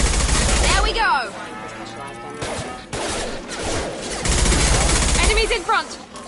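Mass Effect 2 gunfire, bursts of rapid automatic shots and impacts in heavy clusters separated by brief lulls, loud and close, with a voice calling out between volleys.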